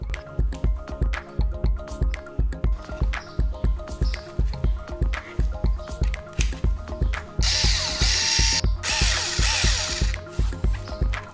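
A Xiaomi Mijia 3.6V cordless rechargeable screwdriver runs in short repeated bursts, each start and stop giving a close mechanical whir with ratcheting clicks, then a longer continuous buzz near the end, with no talk.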